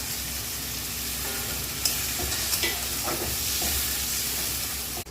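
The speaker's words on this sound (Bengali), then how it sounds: "মশলাটা দিয়ে ভালো করে কষিয়ে নেবো" Spice paste loosened with a little water is stir-fried in a pan for a spicy duck curry, a dense continuous sizzle with a few scraping stirs, loud and close.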